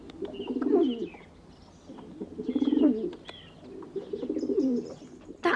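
A pigeon coos repeatedly in soft, rolling phrases, three or four gentle bursts spaced a second or so apart, fairly close and alone without talk.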